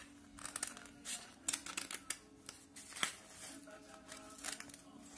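Scissors snip through paper to cut out small toy car shapes, a series of quiet, crisp, irregular cutting strokes heard close up with soft rustling between them.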